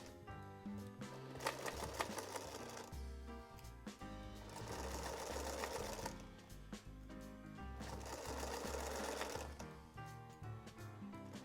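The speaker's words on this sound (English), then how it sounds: "stitch right along that line, back stitching at the beginning and the end." A sewing machine stitches along a crease line on fabric for a dining scarf bib, running in several steady bursts of rapid mechanical clatter separated by brief slowdowns, close and clear with no speech.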